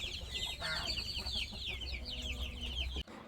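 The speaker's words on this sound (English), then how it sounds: "Let's feed our birdies, starting with our baby silkies." Baby silkie chickens clucking and peeping continuously in a backyard homestead pen, a dense close chorus of small chirps with a brief louder burst near the start.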